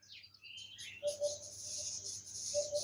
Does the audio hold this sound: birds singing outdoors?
yes